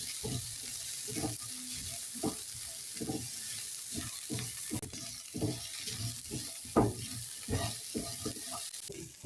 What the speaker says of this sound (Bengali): এবার সমস্ত কিছু মশলাকে খুব ভালো করে নেড়ে চেড়ে নিতে হবে।